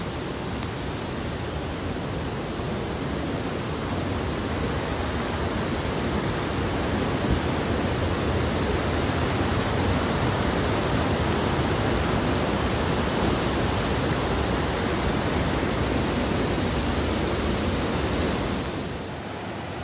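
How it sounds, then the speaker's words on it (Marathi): A strong, swollen river current near Kalu waterfall after heavy rain makes a steady, loud broadband roar of rushing water that fills the whole stretch without pause and fades slightly at the very end. No one speaks. "इथल्या पाण्याचा प्रवाह भयानक आहे"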